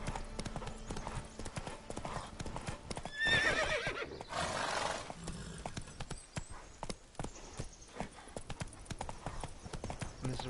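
In The Witcher 3, horse hooves beat out a steady, quick clip-clop that runs throughout, with a brief whinny and soft game ambience behind it.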